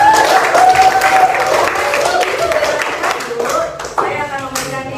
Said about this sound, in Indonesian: Oke, gue tepuk tangan buat ini.